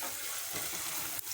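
Ginger-garlic paste frying in a pan for a sardine kudampuli curry, stirred continuously: a soft, faint sizzle broken by a few quick scraping stir strokes, with no talking.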